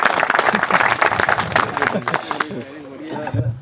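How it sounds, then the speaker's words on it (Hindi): Audience applause at a crop show event, a dense burst of clapping that fills the first two and a half seconds, then thins out as a few voices and chatter carry on underneath. "एक बार जोरदार तालियां।"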